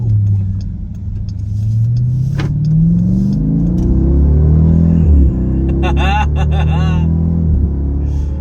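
A Jeep SRT Night Edition, rated at 475 horsepower, rumbles loudly up close with a deep steady engine drone that rises and falls in pitch as it revs, while someone talks over it.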